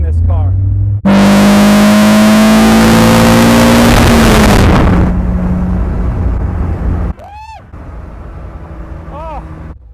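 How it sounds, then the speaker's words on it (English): A car engine roars loud and close under hard acceleration, a dense sustained drone with a rising tone that cuts off abruptly, followed by a quieter hum with a few short squeaky blips. "It is definitely loud under acceleration."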